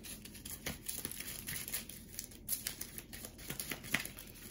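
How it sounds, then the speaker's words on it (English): A deck of cards from the Nemesis board game is shuffled by hand, a soft, continuous flurry of papery riffles and crinkly slaps, faint and close with no talking. "once you've run out of cards to draw from the action card deck, you just shuffle up your whole discard pile and you start to draw from that"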